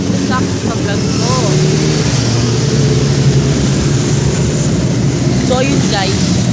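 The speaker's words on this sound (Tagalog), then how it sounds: "may mga motor." Motorcycles rumble past outside a park near an aquarium in Aomori, Japan, a loud, continuous engine drone with shifting pitch, overlapped by people talking nearby.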